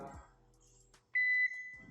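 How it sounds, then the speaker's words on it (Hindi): An Artis 600 VA UPS beeps after the mains power is switched off, giving one clear, loud sustained electronic tone lasting about a third of a second in a quiet room, with brief faint voice sounds before and after. "तो इस तरह 10 सेकंड में बीप करेगा।"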